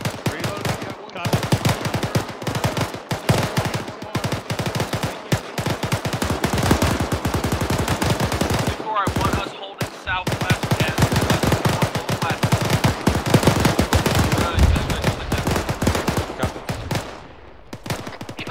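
Loud, sustained gunfire fills an ARMA 3 infantry firefight, with rapid machine-gun bursts and overlapping rifle shots and only a few brief pauses, and voices break in now and then.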